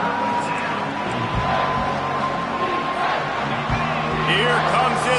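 Home football crowd roaring on third down as the defense tries to get off the field, a dense sustained wall of cheering and whooping filling the stadium, with a commentator's voice running over it.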